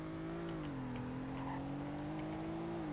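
Car accelerating in the Roblox game Greenville, a steady engine drone holding a near-constant pitch that dips slightly and rises again, with no talking.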